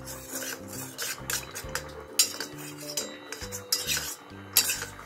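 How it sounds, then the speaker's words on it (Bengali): A spoon stirs cornflour into a little water in a bowl, with repeated close clinks and scraping strokes against the dish in an uneven rhythm, no voices. "1 চামচ মতো কর্নফ্লোর নিয়েছি, তাতে একটু জল দেব, দিয়ে গুলে নেব।"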